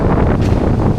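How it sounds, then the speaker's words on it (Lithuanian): Strong wind of around 25 metres per second ahead of a storm, roaring and buffeting the microphone loudly and continuously with gusty surges and no voices. "vėjas įspūdingai didelis, kokie turbūt 25 metrai per sekundę"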